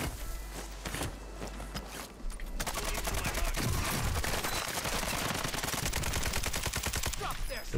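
Automatic rifle fire from Call of Duty Warzone Resurgence on Ashika Island rattles in loud, rapid sustained bursts through most of the stretch, with scattered shots and footstep-like clicks at the start.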